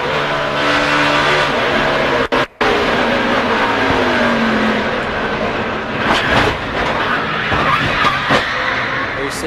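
NASCAR stock cars roaring on track at the 2004 MBNA America 400, a loud continuous engine drone with passing cars swelling and fading, one car heading down pit road, and a voice faintly under the noise.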